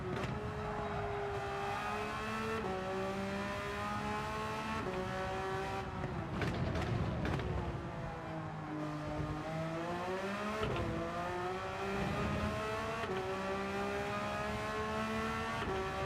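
Gran Turismo 7 race car engine revving loudly and continuously, pitch climbing and dropping across repeated gear shifts, with tire squeal and passing cars mixed in; no talking.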